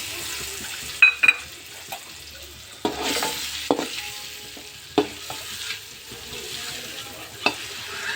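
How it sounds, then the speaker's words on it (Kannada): Eggs frying with salt and chili in a pan for egg biryani, a soft steady sizzle broken by several sharp clinks and scrapes of stirring, close by and fairly quiet with no talk. "ಉಪ್ಪು ಖಾರ ಹಿಡೀಲಿ ಅಂತ ಮೊಟ್ಟೆಗೆ ಫ್ರೈ ಮಾಡ್ಕೋಬೇಕು."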